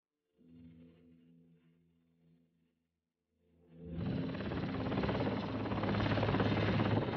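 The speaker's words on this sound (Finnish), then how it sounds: "Ganska kvickt får vi också då order om att klargöra helikopterdäck då helikoptrar är på väg ut." A helicopter's rotor and engine roar rises suddenly and stays loud and broadband after a quieter low hum, with no talk.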